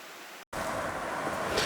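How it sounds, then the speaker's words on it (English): Rain-swollen creek flowing strongly, a steady close rush of water broken by a brief cut to silence before resuming. "now the creek's flowing better than it was the rest of the time"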